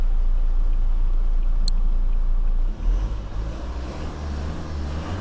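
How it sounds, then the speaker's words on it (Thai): A 2018 Toyota Hilux Revo 2.4E four-door pickup with automatic transmission idles with a steady low rumble, close and continuous, its tone shifting slightly partway through. "ลองฟังเสียงเครื่องยนต์หน่อย"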